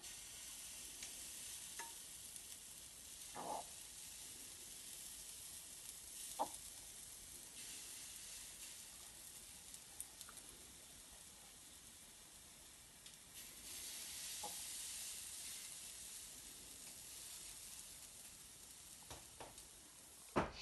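A steady crackling sizzle of pancake batter spooned into a hot frying pan continues throughout, with a few soft clinks and scrapes of a utensil.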